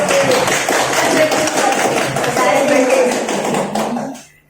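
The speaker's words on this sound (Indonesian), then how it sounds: "Tepuk tangan dulu untuk kita semua." A room of teachers gives a round of applause at a training session, dense continuous clapping that stays steady before fading quickly at the end.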